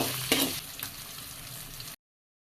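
Shallots, green chillies and a sprig of curry leaves fry in oil for a fish curry, making a continuous near sizzle with a couple of bright scraping stir strokes early on, before the sound cuts off abruptly.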